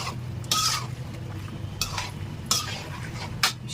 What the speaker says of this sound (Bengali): এখন শুধু নেড়ে চেড়ে মিশাই নিব